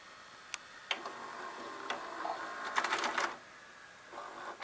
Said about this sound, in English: As you can see, the capstan motor just accepts the cassette and ejects them.